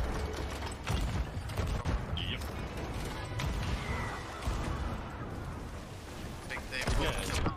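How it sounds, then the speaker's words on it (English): Ship cannons fire a broadside in Sea of Thieves. The booms are dense and overlapping, with crashing impacts rolling on without a break for several seconds. "Devastating broadside."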